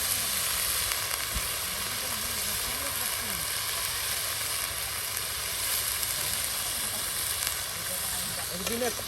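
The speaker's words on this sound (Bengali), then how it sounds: "আপনার সেই ভেজে নেওয়া মশলায় এখন কিন্তু সুন্দর করে কষিয়ে মজিয়ে নেওয়া হবে" Potatoes and coriander leaves frying in spices in a pan at a riverside cooking spot, a steady close sizzle and hiss with occasional scraping stirs and faint voices in the background.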